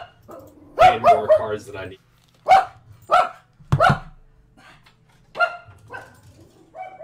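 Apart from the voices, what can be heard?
dog barking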